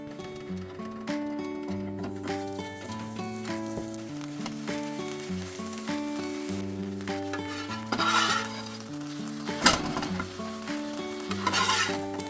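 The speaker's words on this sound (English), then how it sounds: "generously slather it with butter before giving it a quick grill in the pan" Buttered bread grills in a pan with a steady, close sizzle and occasional scraping clatter, set against a soft, even tonal background.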